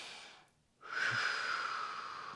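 A person breathes in a hip stretch, drawing one long, steady breath close by that carries on to the end after a brief quiet gap.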